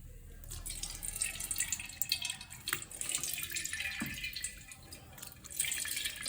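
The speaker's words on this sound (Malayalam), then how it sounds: "നമ്മുടെ വൈൻ റെഡിയാണ്. ഇനി നമുക്ക് വേറൊരു പാത്രത്തിലോട്ട് ഒഴിച്ചു കൊടുക്കാം." Homemade grape wine is poured from one vessel into a steel container through a strainer, a close liquid splashing and trickling that swells and eases, with a few clinks.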